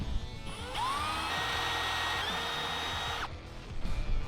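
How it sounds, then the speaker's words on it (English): A small power drill with a 1/16 inch bit whines at high pitch for a couple of seconds, its tone rising as it bites in, then spins down, with light clatter around it. "And we just drill right into those scribed marks."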